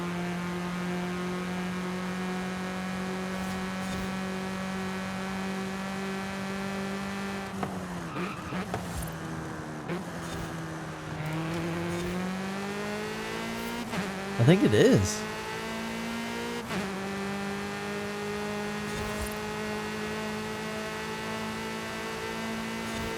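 A car in the racing video game Forza Horizon holds a steady droning engine note, with gear-shift dips and a brief tire screech midway, while someone speaks quietly over it.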